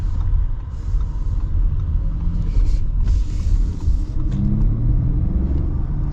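2025 Audi A6 engine pulling under acceleration, a low, steady rumble heard from inside the cabin with road noise underneath, continuous and moderately loud, with no talking.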